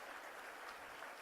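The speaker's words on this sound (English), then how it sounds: "one more big round of applause this evening" Audience applause at an evening charity event, a brief, even burst of many hands clapping, heard at a distance and fairly faint.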